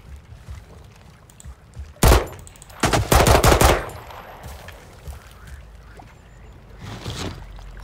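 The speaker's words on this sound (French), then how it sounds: "Ça tire, ça me tire dessus." Loud machine-gun bursts in the game Project L.3.3.T: one sharp burst, then a longer rapid volley of about a second, with a fainter shot-like burst later over low background noise.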